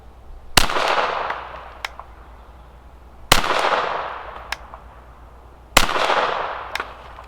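Three sharp pistol shots from a Sig P322 fired at a 50-yard target outdoors, each a loud crack trailed by a long echoing decay, spaced a few seconds apart and followed by fainter distant pops.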